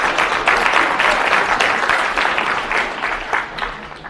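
An audience claps loudly and steadily throughout a live demonstration of magic tricks with a ribbon, paperclips and rubber bands, the dense applause tapering slightly toward the end.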